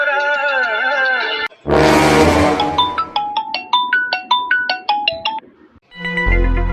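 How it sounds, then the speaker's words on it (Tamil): Phone ringtone playing a repeating melodic pattern of tones that is loud and close, cutting out briefly before starting up again. "இவன் எதுக்கு இப்ப போன் ஓயாம அடிச்சுட்டே இருக்கான்?"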